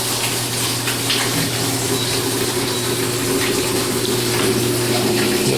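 A washing machine fills with water during a test run after hookup, a steady continuous rush and hum of water pouring in through the hoses, loud and even throughout with no talking.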